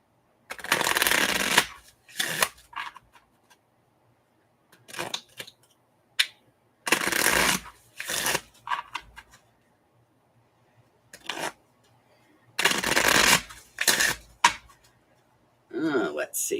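Several bursts of cards being riffle-shuffled, each a quick papery flutter, separated by short pauses, close and fairly loud.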